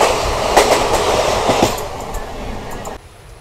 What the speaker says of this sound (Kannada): Hubballi Hyderabad express crossing.